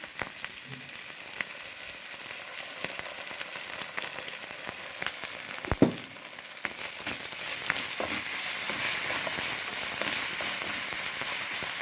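Kailan greens stir-frying with garlic and oyster sauce in a hot pan, a steady crackling sizzle with scattered pops and occasional stirring clinks, growing slightly louder and denser toward the end, with no voices.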